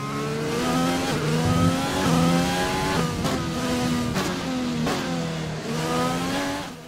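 A race car in the video game F1 2020 screams through rising engine sweeps, with quick upshifts and brief lifts repeating close and loud.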